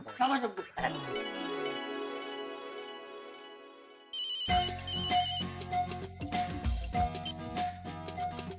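A phone ringtone plays in repeated melodic bursts, loud and close, with a brief stretch of voices at the start.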